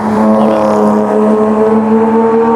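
A Porsche GT3 RS race car engine howls steadily at high revs on a track lap, loud and continuous with strong harmonic tones and no talk over it.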